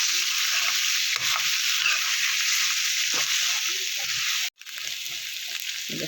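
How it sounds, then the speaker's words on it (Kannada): Mutton frying with onion paste in a pan, a steady loud sizzle with intermittent stirring scrapes, a brief break near the end before the hiss resumes. "ಆನಿಯನ್ ಪೇಸ್ಟ್ ಎಲ್ಲ ಫ್ರೈ ಆದಮೇಲೆ ಬೇಯಿಸ್ಕೊಂಡಿರೋಂಥ ಮಟನ್ ಹಾಕಿ ಫ್ರೈ ಮಾಡ್ಕೊಂಡು ಸ್ವಲ್ಪ"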